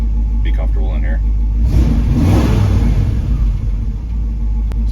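Low rumbling idle of a 1968 Ford F-100 V8 through Flowmaster Super 40 mufflers mounted behind the cab, heard from inside the cab, with a brief swell in the middle and a person talking at the start.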